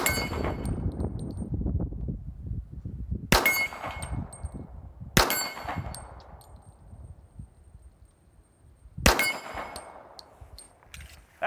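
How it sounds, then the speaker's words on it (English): Pistol shots striking steel plates on a plate rack outdoors, four sharp, widely spaced impacts, each ringing out with a metallic clang that slowly decays into quiet wind noise. "Today we're going to function fire one of our Pro Pluses on the plate rack."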